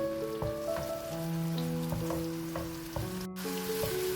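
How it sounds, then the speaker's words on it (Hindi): Steady crackling sizzle of garlic and ginger frying in hot oil, close and continuous, with a few sharper pops and no voices. "लहसुन अदरक देखिए फ्राई होना शुरू हो चुका है।"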